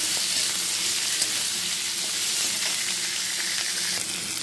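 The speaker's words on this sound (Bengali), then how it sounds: "এতে কড়াইতে দিয়ে দিয়েছি আরও কিছুটা তেল, সব একসঙ্গে দিয়ে দিয়েছি। এবার আমি এটাকে ভালো করে ভেজে নেব।" Chilli chicken frying in plenty of oil in a kadai gives a loud, dense, unbroken hiss of sizzling, close up and uniform throughout.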